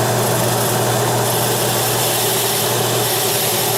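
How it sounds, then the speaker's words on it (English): A wood lathe running at 600 RPM during woodturning: a constant dense motor drone with a steady low hum, loud and unchanging throughout with no pauses or talk. "The lathe is at 600 RPM"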